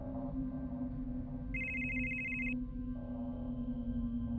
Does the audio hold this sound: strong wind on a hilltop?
no